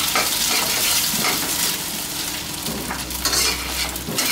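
Eggs being stirred and broken up as they fry in a hot pan for Thai soy-sauce fried rice, a steady close sizzle with scraping and stirring throughout, no voices.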